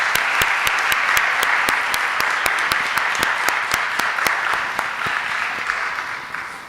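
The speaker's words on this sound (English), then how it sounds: "Can I get a round of applause for our live music in the back?" Audience applause rings out for live music at a spring honors celebration, a steady wash of many hands clapping at close range, holding level before easing off slightly near the end.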